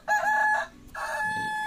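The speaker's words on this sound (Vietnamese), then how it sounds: "Dưới này có hai em gà này." A rooster crows in two drawn-out calls with a short gap between them, fairly close and clear, with no talking.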